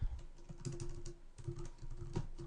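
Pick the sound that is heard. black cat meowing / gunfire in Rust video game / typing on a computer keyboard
typing on a computer keyboard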